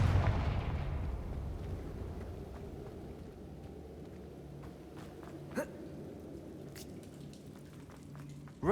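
A Confringo fire-spell blast in the video game Hogwarts Legacy bursts loudly at the start, then rolls off into a long fading rumble with a few faint crackles and clicks trailing after.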